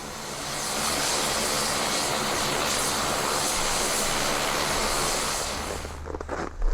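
A propeller airplane engine drones loudly and continuously in Antarctica, holding a steady roar before fading slightly at the end.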